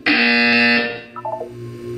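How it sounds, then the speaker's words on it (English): A loud electronic buzzer in the video game Portal 2 sounds once, a harsh sustained tone lasting under a second, followed by a short series of quieter descending chime notes. "You will hear a buzzer."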